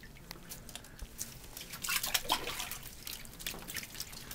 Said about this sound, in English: Don't just drip everywhere